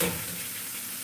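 Fish sizzles in a frying pan during home dinner cooking, a steady, close hiss of hot oil with no voices.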